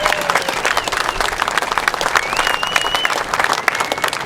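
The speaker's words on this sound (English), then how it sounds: "can we get a round of applause for them?" Sustained crowd applause and clapping at a Tacoma commemoration re-creating the 1916 ILWU longshore strike, dense and steady throughout with a few faint whistles and cheers over the clapping.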